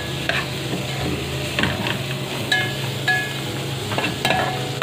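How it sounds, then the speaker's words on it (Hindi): A spoon stirs chicken tikka masala in a hot pan with a steady sizzling frying hiss, the metal scraping gently in slow, repeated strokes, close and continuous. "इसको अब हम हला लेते हैं आराम आराम से"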